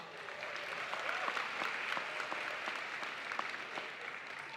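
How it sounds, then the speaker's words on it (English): An audience at a Lincoln University graduation applauds the choir with fairly faint, distant clapping that keeps a steady, continuous patter from start to finish without speech. "One more round of applause for that."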